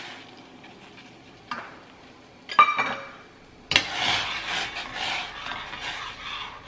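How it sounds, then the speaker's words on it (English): Oats poured into boiling water in a pot on a stove, a few clinks and a scraping pour followed by a sustained bubbling hiss, close and fairly quiet. "Okay, so it's boiling. So now I'm going to add 1 cup of"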